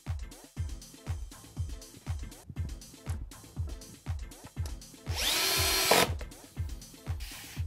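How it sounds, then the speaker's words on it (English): A power drill drives Euro screws into wardrobe runners, whirring in rapid rhythmic pulses that swell into one longer, louder high-pitched burst near the end, close and without talk. "using the Euro screws, I fix my runners into position."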